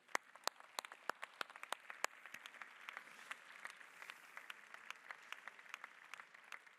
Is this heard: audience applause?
yes